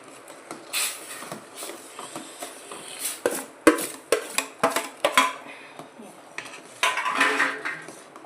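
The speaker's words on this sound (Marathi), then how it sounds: "आता यामध्ये ना आपण हा जो रवा होता ना भाजले तो टाकून घेणार आहोत। असं हलवून घेणार आहोत।" Roasted semolina is tipped into a pan with melted jaggery and stirred for a sweet upma, bringing repeated close scraping and clinking of a metal spoon against the pan in an uneven rhythm.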